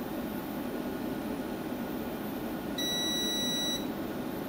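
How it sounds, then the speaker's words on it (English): A single electronic beep of about a second from a multimeter timing out rises over a steady hiss of background noise. "that beep was my multimeter timing out"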